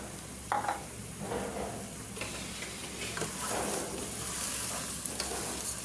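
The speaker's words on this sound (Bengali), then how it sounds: "এখন চাউলগুলো আমি ভালো করে ঝরঝরা করে ভাজবো।" Rice grains for pulao stirred and fried in a pot, a steady scraping sizzle with occasional clinks of the spoon against the metal, close and continuous with no talk.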